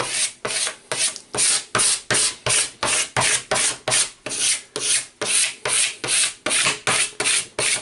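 A squeegee scrapes firmly across cut vinyl and application tape on a sign project in about twenty even, rhythmic rasping strokes, close and loud, with no voices.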